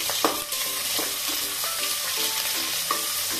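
Onion and green chillies sizzle steadily in hot oil in a pan, with soft scraping and stirring taps over the continuous frying hiss, close and alone.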